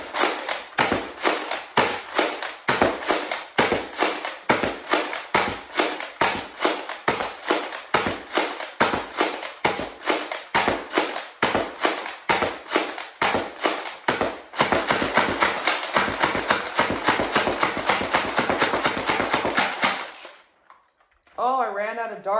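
A Zuru Crusher foam dart blaster fires a long run of sharp, loud snaps, first as single shots at a steady pace, then as faster slam-fire bursts, ending in a brief pause and a short whirring sound.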